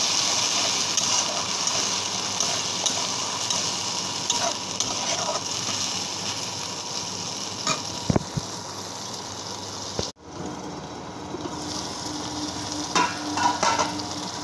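Ground ginger, garlic, onion and turmeric spice paste sizzles and hisses steadily in a hot pan while being stirred, with a few scrapes and clinks of the spoon and a brief pause near the end.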